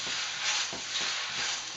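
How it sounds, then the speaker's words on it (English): Lo mein noodles and vegetables sizzle in a hot pan, a dense, steady hiss close up with faint rhythmic stirring pulses. "But you can hear this shit cooking pretty good."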